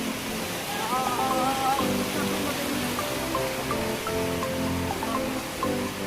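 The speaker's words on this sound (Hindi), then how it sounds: "नदी किस तरह से उफान में है ये भी आप देख सकते हैं, और किस तरह से कटाव हो रहा है" The Torsa river in flood, rushing water eroding the riverbank: a constant loud broadband roar of water, with faint chirps and a voice partly under it.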